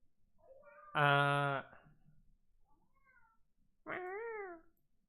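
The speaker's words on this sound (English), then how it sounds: "what are you doing, random cat?" A cat in the video game Bonelab meows twice, a long bright call and then a shorter wavering one, close and clear against a quiet background.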